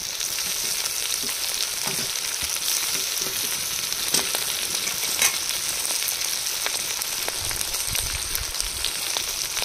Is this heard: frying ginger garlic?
yes